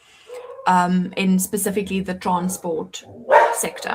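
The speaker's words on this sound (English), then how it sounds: "I'm not entirely sure if you can hear my dog barking" A household dog barks in the background, with a few short yips and barks partly masked by someone speaking steadily in the foreground.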